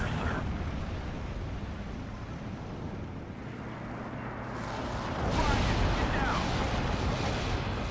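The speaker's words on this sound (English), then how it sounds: "Well, those are some good bombs." Bombs exploding in the WWII strategy game Steel Division: Normandy 44, a dense rumbling bed of blasts that swells louder in the last few seconds, with a voice talking over it.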